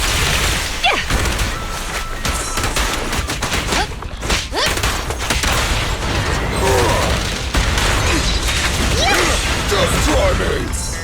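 Dense, continuous gunfire and impact effects from combat in the video game Zenless Zone Zero, loud and busy throughout with whooshes and mechanical clanks, under game voice lines.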